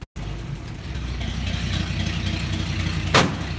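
An old car with a Ford muffler and a 1 3/4 inch exhaust tube idles steadily after starting, a close, even engine drone with a brief higher burst near the end.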